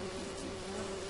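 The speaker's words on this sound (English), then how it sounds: "that's a killer bee" A killer bee from the video game Don't Starve buzzes in a steady, continuous drone, close and fairly loud, with no talking.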